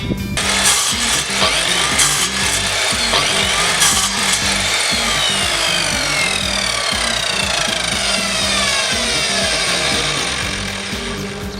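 A power saw cuts continuously through wooden posts for a van step platform, a loud, steady rasping whine with a rhythmic chatter underneath, close and uninterrupted.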